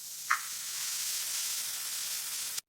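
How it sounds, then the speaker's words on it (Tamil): Shallots and garlic sizzle steadily in hot oil, a bright continuous frying hiss with a brief louder crackle near the start, close and alone. "நம்ம சேர்த்த 3 சின்ன வெங்காயம் மற்றும் 5 பல் பூண்டு நல்லா வதங்கி பொன்னிறம் வரும்"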